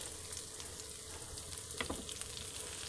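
Bitter gourd (karela) fry sizzles steadily in a pan as the slices are turned, with a continuous hiss of hot oil and a few brief scraping and stirring clicks near the middle, close and even, with no voices.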